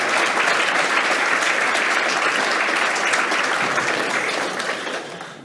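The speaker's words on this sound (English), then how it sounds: "So please give them all a round of applause." A large conference audience at a national international affairs event breaks into loud, dense sustained applause that gradually fades out toward the end.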